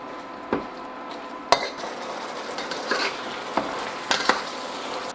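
Beef and sauce being stirred in a wok for Vietnamese shaking beef (bo luc lac), with soft scraping and clinks of a utensil against the pan over a steady sizzle and simmer.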